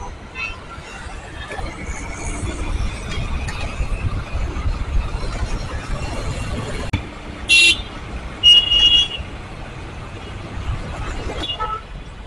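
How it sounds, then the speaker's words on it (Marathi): Jammed road traffic in Mumbai heard from a motorbike, a constant rumble of engines and road noise with several short car horn toots cutting through, one sharp honk and a longer pair of blasts standing out. "जाम ट्रॅफिक आहे"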